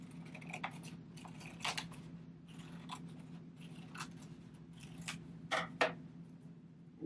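Scissors snip out a paper heart pattern at close range, giving short, scattered crisp cuts with a few sharper snips near the end over a steady low hum, no talking.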